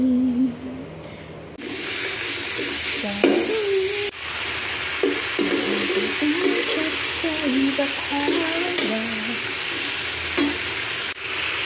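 Chili, onion and garlic fry and stir in a pan for pinakbet, a steady close sizzle with scraping strokes of a utensil and brief voices over it.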